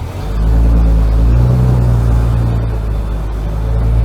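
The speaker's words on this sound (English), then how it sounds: "let's see if we can actually get this thing into third gear a little bit" A fire truck's engine revs as the driver shifts into third gear, a loud, steady low rumble and drone close by.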